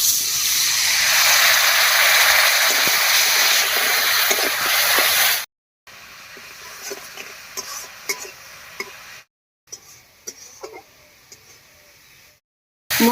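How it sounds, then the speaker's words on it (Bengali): Spice masala for cauliflower paratha frying in a pan as a little water is added, opening with a loud, sustained steam hiss that fades into softer bubbling and crackling, broken by abrupt cuts to silence. "এবার একটু জল দিয়ে কষিয়ে নেব।"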